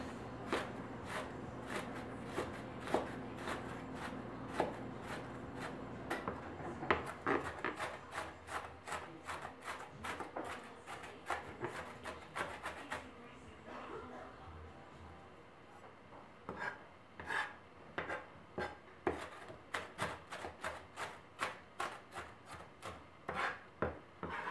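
A knife chops onion on a cutting board for guacamole in quick, steady strikes. The close, crisp knocks run with a few short pauses, and no one speaks.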